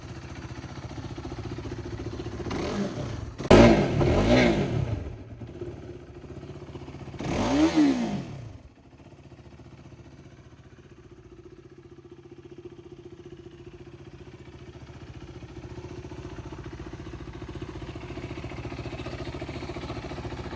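A KTM RC 390 motorcycle engine revs sharply twice close by, each burst climbing and falling, then settles into a steady, even idle for the rest of the time.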